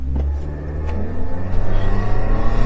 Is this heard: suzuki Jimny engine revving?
yes